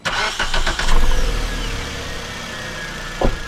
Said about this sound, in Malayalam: അപ്പോൾ നമ്മൾക്ക് എഞ്ചിൻ സ്റ്റാർട്ട് ചെയ്യാം.